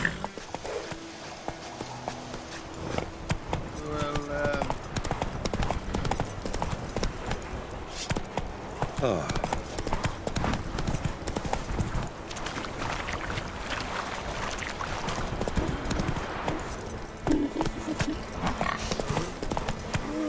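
Roach the horse in the video game Witcher 3 gallops with rapid, continuous hoofbeats, close and steady for the whole stretch, over a busy background of game ambience.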